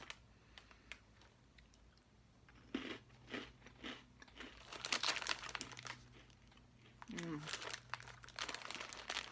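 Someone crunches and chews small spiced holiday cookie nuggets from a snack tasting box, with crisp bites and crinkly chewing close to the mic in irregular bursts, with a little speech near the end.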